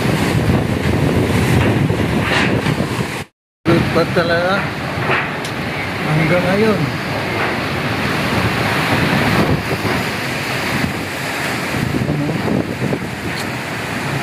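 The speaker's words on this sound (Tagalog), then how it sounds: "Sobrang lakas ng hangin at ulan." Strong wind roars against the microphone with heavy rain pouring down steadily, while a person talks over the storm.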